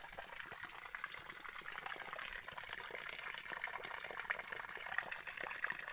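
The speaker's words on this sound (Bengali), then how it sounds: "এই দেখুন এখানে ডিপ টিউবওয়েলের মুখটা আছে" Water gushes steadily from the mouth of a small deep tube well outdoors, a continuous rushing, splashing flow at close range with no talk.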